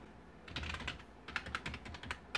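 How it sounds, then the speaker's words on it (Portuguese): Someone types a password on a computer keyboard in a quick run of soft, close key clicks, irregular in rhythm, with a short pause midway and no talk. "Então é só clicar em cima e digitar a senha"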